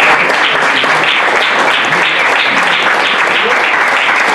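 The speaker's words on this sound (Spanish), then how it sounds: "quiero pedirles a todos un aplauso para la Guardia Civil la Policía" A large audience breaks into loud, sustained applause for the Guardia Civil and Police at a victims-of-terrorism testimony event, a dense steady roar of clapping hands with no voices over it.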